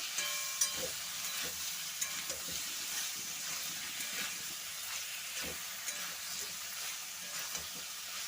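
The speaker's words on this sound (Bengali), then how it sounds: "তো ঢাকাটা সরিয়ে আবার একবার নাড়াচাড়া করে নেব।" Mixed Bengali vegetables, uncovered after steaming, are stirred in a pan with a continuous bright hissing sizzle and soft, occasional spatula scrapes, fairly faint and steady.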